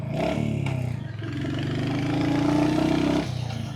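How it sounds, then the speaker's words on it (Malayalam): A Royal Enfield Hunter 350 with a single-cylinder 350cc air-cooled engine, heard while riding: a close, pulsing engine note that dips briefly, then rises steadily in pitch as the bike accelerates before easing off. "Single cylinder 350cc air cooled എഞ്ചിനാണ് നമുക്കിവിടെ കിട്ടുന്നത്."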